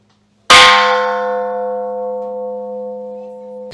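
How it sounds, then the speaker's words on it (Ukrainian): A single deep Buddhist temple bell strike rings out loud and clear, its sustained resonant tone slowly fading over several seconds until it is abruptly cut off. "Ось ми можемо вдарити у дзвін"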